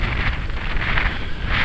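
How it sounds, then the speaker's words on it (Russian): A very strong wind roars and buffets the microphone in a continuous loud rush with gusting swells, and no one speaks. "Очень сильный ветер."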